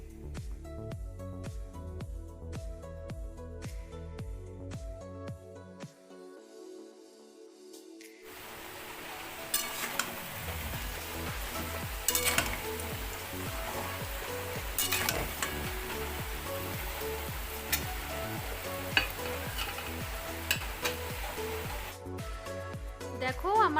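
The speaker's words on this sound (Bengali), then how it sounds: "আলুগুলো লাল লাল করে ভাজা হয়ে গেছে" Potatoes seasoned with salt and turmeric fry in a pan with a steady, close sizzle that thickens partway through, with music playing over it.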